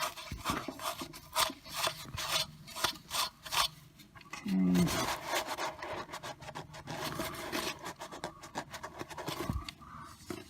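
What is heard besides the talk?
rubbing dirt off with steel wool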